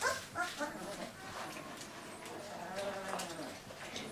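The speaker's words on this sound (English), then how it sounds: "Got one small dog there," A small female puppy, a few weeks old, whimpers and yips in thin, high cries, a few short bursts close by while a person talks quietly.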